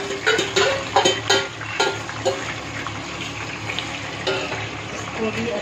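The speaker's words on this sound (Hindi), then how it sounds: "अब मैरिनेट किया हुआ जो चिकन है इसे मैं डाल दूँगी, इसको भी फ्राई करना है" Marinated chicken fries in a pan, a loud close crackling sizzle broken by several sharp bursts and stirring scrapes early on before settling into a steadier hiss.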